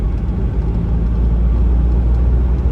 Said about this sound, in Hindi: और एक्सेलरेट कर रहा है गाड़ी को, एक्सेलरेटर नहीं ले रही।